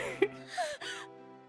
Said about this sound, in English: this combination of the sound effects for her panting